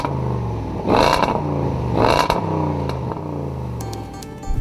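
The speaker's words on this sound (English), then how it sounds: "change the exhaust system so you could hear the V8 under the bonnet" A Range Rover Sport V8 revs through its exhaust, two loud blips of throttle rising and falling against a rumbling idle, then settling back, close by with no speech.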